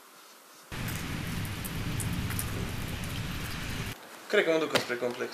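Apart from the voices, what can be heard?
rain falling outside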